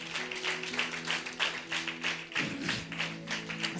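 A church congregation claps in a quick, steady rhythm, crisp repeated hand slaps over a sustained musical drone, moderately close with no talk.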